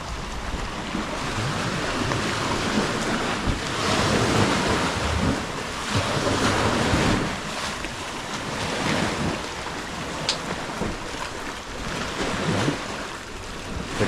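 Ocean waves wash steadily onto a beach on Bantayan island, a continuous broadband surf roar with swelling surges and gusts of wind buffeting the microphone, with no voices.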